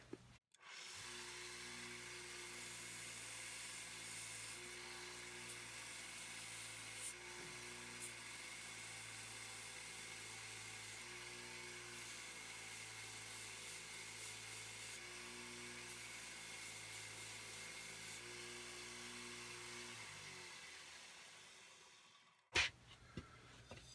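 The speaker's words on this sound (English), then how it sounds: "I'm going to hit this with an 80 grit and show you the difference." A 1x30 belt sander running an 80 grit belt against a metal tool during restoration, a steady whining drone that holds for about twenty seconds, close and even, then cuts off with a brief clunk at the end.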